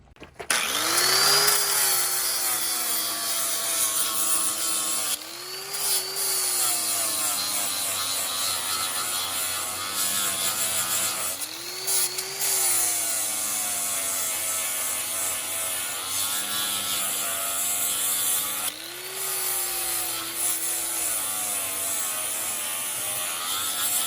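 A SIGNI zirconia flap disc grinds and sands down a tractor piston, a loud whining abrasive drone rising and falling in several sustained passes with short pauses between them.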